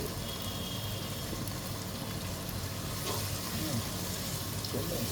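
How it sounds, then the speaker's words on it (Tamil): Cinnamon, cardamom and cloves sautéing in a pan for Ambur chicken biryani, a steady moderate sizzle with faint crackles running unbroken. "நம்ம பட்டை, ஏலக்காய், கிராம்பு, இது 3 ரெடி செஞ்சுருக்கோம். கொஞ்சம் வதங்கட்டும்."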